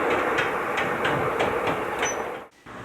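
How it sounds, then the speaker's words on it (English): A train runs along the Grimsby to Barton railway line near Littlefield Lane, heard on old cine film. Close, loud rumble with a regular clickety-clack of wheels on rail joints, then a brief dip before the rumble resumes. "The train is heading past Littlefield Lane towards Greatcoat Station"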